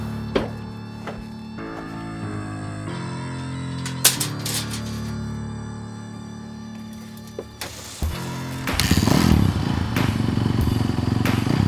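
A Yamaha off-road racing motorcycle ridden during desert testing, its engine droning and revving with clattering thumps, then growing louder and rougher near the end as it passes close by.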